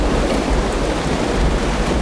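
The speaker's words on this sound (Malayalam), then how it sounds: "നല്ല മഴ." Heavy rain pours in a dense, unbroken roar, loud and close, with a deep rumbling low end and no voices over the two seconds.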